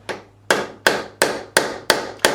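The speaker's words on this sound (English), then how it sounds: "taking my fretting hammer, brass end, I'm going to tap this out" Seven sharp, evenly spaced taps from a brass-ended fretting hammer knocking out a fret on a 1976 Fender Stratocaster neck, close and loud, each strike ringing briefly with no talk.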